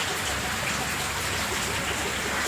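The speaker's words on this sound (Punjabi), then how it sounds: "ਦੇਖੋ ਬਈ ਮੀਂਹ" Heavy night rain pours steadily outside at a building site, a dense, even hiss of falling water with no pauses and no voices.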